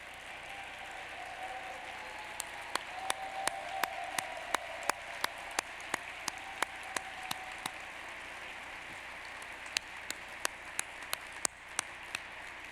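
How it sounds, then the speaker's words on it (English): A gala audience applauds board members who have stood up, a steady, moderately distant wash of many hands clapping with sharper individual claps popping out through it. "if you don't mind all standing so we could give you some applause"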